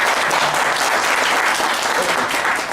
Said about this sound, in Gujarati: જોરદાર તાળીઓ એના માટે.